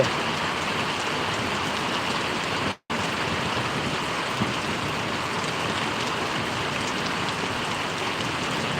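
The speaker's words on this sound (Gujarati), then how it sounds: "ચાલો રાઉન્ડ બીજો શરૂ વરસાદનો" Heavy rain pours down steadily in Paravadi village, Gariadhar taluka, a dense, even roar that is interrupted only by a split-second dropout near the start.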